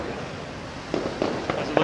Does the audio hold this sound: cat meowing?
no